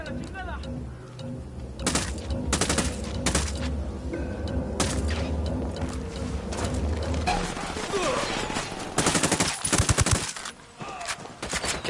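Gunfire erupts in the video game Ghost Recon Wildlands: loud bursts and rapid volleys crackle through the mix, with a heavier cluster of shots near the end, alongside game sound and voices.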